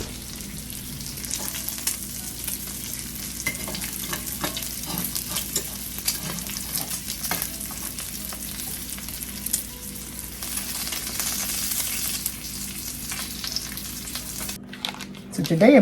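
Bacon frying in a pan gives a steady, dense sizzle and crackle with scattered pops throughout, fairly close, ending with a brief clatter as the pan is handled.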